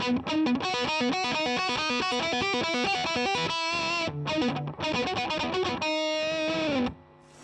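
Electric guitar through a Tantrum distortion pedal plays a fast, chugging riff of choppy chords, then rings out on a sustained note that fades away.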